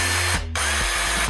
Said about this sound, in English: One is this automatic rivet gun.